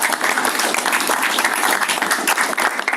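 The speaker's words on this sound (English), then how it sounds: "another round of applause for the staff at Plan RVA" A meeting audience gives a round of applause for the Plan RVA staff at a joint annual meeting: steady, dense clapping from many hands, continuous and fairly loud throughout.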